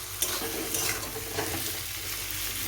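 Cauliflower, potato and egg roast stirred in a frying pan with coriander leaves, a steady close sizzle with soft scraping stirs of a spatula running throughout, no voices.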